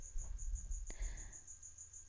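A single cricket chirping in a steady, evenly spaced high-pitched pulse, faint against quiet low background noise, with one brief click partway through.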